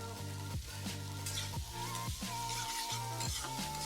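Chopped onion frying in mustard oil in a pan, a steady sizzle with a recurring low hum and periodic soft scraping as it is stirred, heard alone at low volume.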